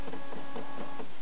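A noisy stepper motor on a QU BD TwoUp 3D printer drives an axis, a steady whirring hum with a faint, evenly spaced ticking, close and continuous.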